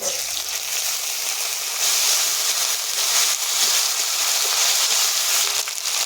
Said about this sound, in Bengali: আদা আর কাঁচা লঙ্কা বাটা দেবো,